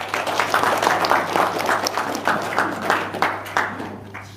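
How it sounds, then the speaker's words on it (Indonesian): Audience applause at a gathering, a dense, energetic burst of clapping with rhythmic pulses and some crowd noise, loud and sustained over a low steady hum. "Tepuk tangan dong."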